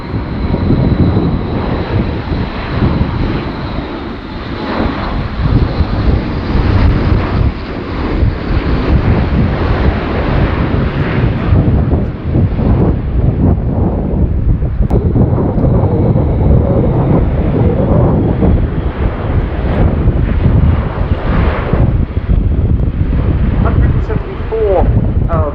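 An Airbus A400M Atlas military transport flies at an airshow, its turboprop engines roaring loudly and continuously under heavy wind buffeting, with a commentator's voice running over the noise.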